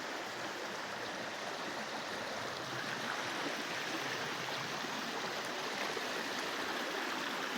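Floodwater from Hurricane Helene rushes past a collapsed brick dam, a steady, faint, continuous stream-like roar with no voices.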